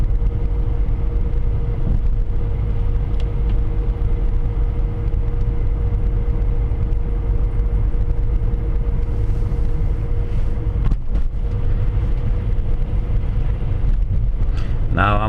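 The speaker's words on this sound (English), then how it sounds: "I'm driving at 40 kilometers an hour" Car cruising at 40 km/h on a winter road, a steady low engine and tyre rumble with wind noise throughout and a couple of brief bumps near the end.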